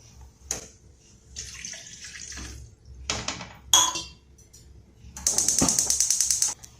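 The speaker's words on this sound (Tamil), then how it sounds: "அதுக்கு 2 டம்ளர் தண்ணி விட்டுக்கிடுவோம்" Water pours into a cooking pot in bursts for modak dough, splashing and trickling with metallic clinks between pours, close and moderately loud.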